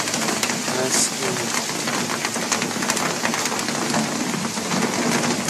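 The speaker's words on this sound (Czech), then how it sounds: "Kroupy s deštěm." Hail and rain beat down loudly and continuously during a storm, with a low rumble of thunder or a passing engine underneath and brief voices in the background.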